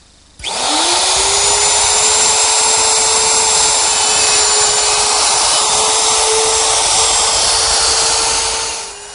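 A router spins up sharply and cuts half-inch holes in wooden cleats, a loud, continuous high-pitched whine with a gritty cutting roar. It holds steady for about eight seconds before starting to wind down, with no talking.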